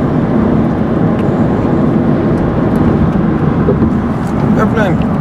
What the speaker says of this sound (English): Airplane! The plane!